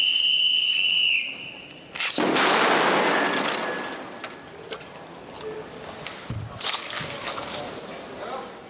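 Bomb disposal technicians in Paris set off a controlled explosion on a car, producing a sudden sharp blast that bursts into broad, roaring noise and decays over several seconds amid outdoor background sound.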